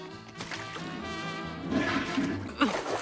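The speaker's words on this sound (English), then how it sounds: "Peggy tries to flush her mighty package down the toilet" A toilet flushing in a King of the Hill cartoon scene, a broad rushing swirl of water over about three seconds that surges louder near the end, with music or voices faintly mixed in.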